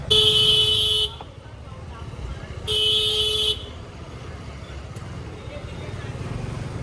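Road traffic with two loud car horn blasts, each about a second long, over a low rumble of engines and street noise.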